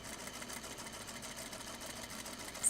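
A sewing machine back stitches on a purse scarf. A soft, steady, fast stitching patter runs throughout and swells louder at the very end.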